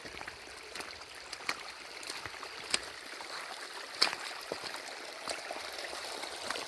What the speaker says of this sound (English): So much water that on this section of the trail, it's actually turned into a little creek.